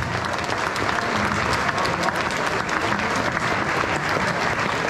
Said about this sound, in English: let's have a big round of applause for both of these fighters